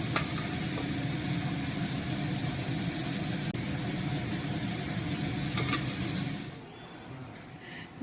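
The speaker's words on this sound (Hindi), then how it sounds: "तीन बारी कबाब फ्राई हो रहे हैं" Kebabs fry in a pan with a continuous, fairly close sizzle that holds steady for several seconds and then quietens near the end.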